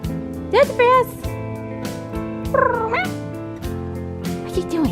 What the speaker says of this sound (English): You crazy kitty.